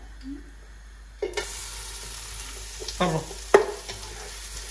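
Onion and salt hit hot coconut oil for a Kerala duck curry, starting a steady, fairly quiet sizzle with a few scraping stirs and clinks of a utensil against the pan.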